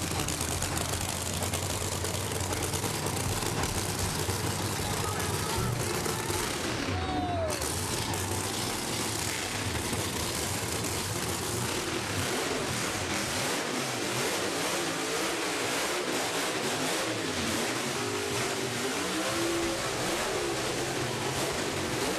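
Nitro drag racing engines fire up and rev in a long, loud, continuous roar at a drag strip event, with throttle blips and surges rising and falling over a sustained engine din.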